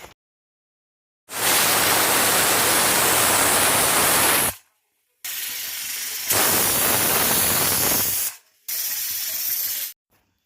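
A pressure cooker cooking amla gives off loud, harsh hissing bursts of steam, three long sustained blasts separated by short silences, close and dominant with no talking.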